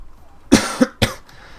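A man with a cold coughs three times in quick succession, close and fairly loud, with short pauses between the bursts and near silence before and after.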